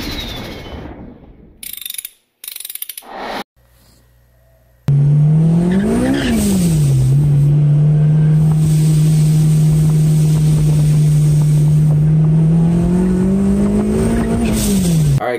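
A supercharged 8th-generation Honda Civic Si with a Kraftwerks Rotrex supercharger drives after a few seconds of quiet and clunks. Its engine holds a loud, steady drone with a whining tone that rises and falls as it revs.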